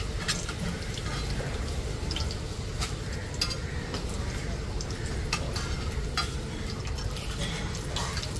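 Food frying in a pan at home and being stirred, a steady sizzling hiss with scattered scraping clicks from the utensil, close and continuous throughout.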